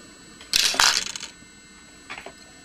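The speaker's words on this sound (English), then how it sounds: "Use your old scissors and cut off the wire." Old scissors snip off the tying wire at a fly-tying vise while a simple caddis larva is being made: a quick, close, crisp double snip, followed by a fainter small click about a second and a half later.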